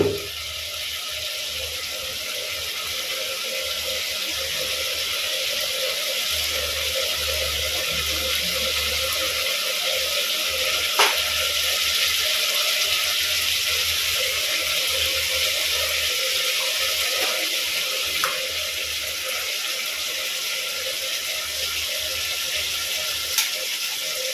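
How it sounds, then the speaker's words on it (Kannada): Water pours and splashes into a cooking pot of vegetable soybean pulao with a steady, close rushing hiss, overlaid with faint sizzling and a few brief clicks. "ಈಗ ಇದನ್ನು ವಾಶ್ ಮಾಡ್ಕೊಂಡಿರೋ ನೀರನ್ನು ಸಹ ಹಾಕ್ಬಿಡೋಣ"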